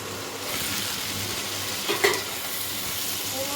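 Vegetables with salt and turmeric frying in a pan, a steady close sizzle with a brief stir and clatter near the middle.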